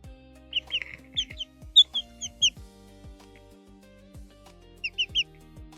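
Young pet chicks making soft chirping clucks in short clustered bursts, close and clear against a quiet indoor background with low tonal hum, no talking.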